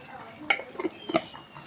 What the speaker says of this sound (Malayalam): അതിട്ടതിന് ശേഷം നല്ലോണം ഒന്ന് ഇളക്കി അതിൻ്റെ ആ ഒരു പച്ച മണം മാറുന്ന വരെ നല്ലോണം ഒന്ന് ഇളക്കി കൊടുക്കുക